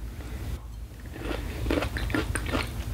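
Close crunchy chewing of a Manado vegetable, crisp bites and mastication repeating irregularly over a steady low background hum.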